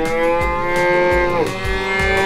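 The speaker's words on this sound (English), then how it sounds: "Our cows are all happy, relaxed, and have plenty to eat and drink." Cartoon cows moo on a 3D farm diorama, a loud, sustained lowing call that bends downward midway, with soft rhythmic thumps underneath and no talking.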